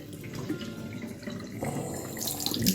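Hot water runs steadily from a tap into a sink, a continuous close hiss and splash that swells slightly toward the end.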